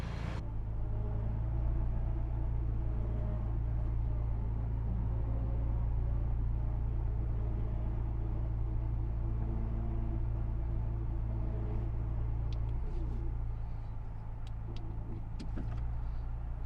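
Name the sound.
vehicle slowly pulling and spooling winch line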